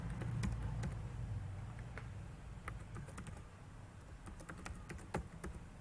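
Fingers type on a computer keyboard while coding in Visual Studio, with quiet irregular key clicks in short bursts over a low background hum.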